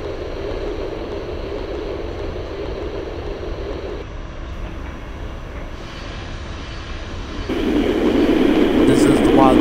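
A New York City subway train on the Y line between Gun Hill Road and Parkchester runs in the OpenBVE simulator game, a steady broad rumble and whine that swells louder near the end, with no voices over it.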